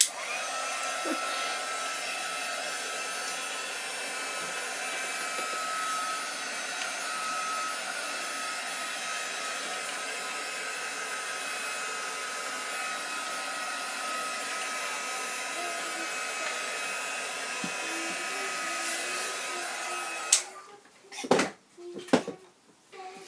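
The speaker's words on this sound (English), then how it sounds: "If you don't like the sound of a loud heat dryer, you might want to turn the volume off" A loud, steady blowing whir of a heat gun drying paper runs continuously for about twenty seconds, then cuts off, followed by a few sharp clatters and knocks.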